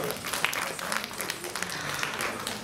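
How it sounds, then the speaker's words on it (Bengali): Audience applause at an in-house cultural program, a dense, continuous patter of clapping from a crowd, moderately loud and steady throughout the short burst. "আরো একটা জোরে হাততালি স্বয়ম্ভুর জন্য।"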